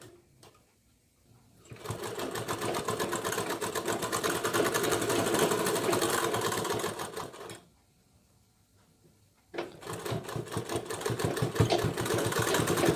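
A sewing machine stitches a blouse in two long runs of steady, rapid mechanical chatter, separated by short pauses, loud and close with no talking.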